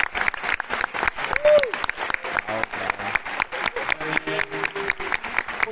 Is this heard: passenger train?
no